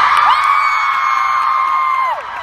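Panel audience at VidCon 2015 cheering, whooping and screaming, a dense sustained wall of high excited voices that fades toward the end.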